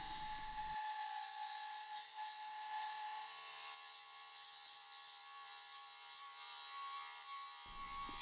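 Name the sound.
wood lathe turning walnut and snowball branch, stripping epoxy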